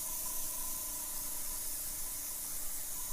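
Spray paint being applied to Hot Wheels custom die-cast cars, a steady continuous hiss with no breaks, close and fairly loud, alone without talk.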